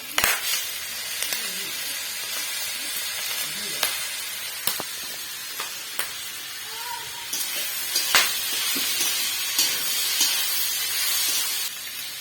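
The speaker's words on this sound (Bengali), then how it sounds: "এই যে ফুসি রান্না হচ্ছে" Goat tripe cooking in a pan gives a steady close sizzle and hiss throughout, broken by occasional sharp ticks and pops, without any talking.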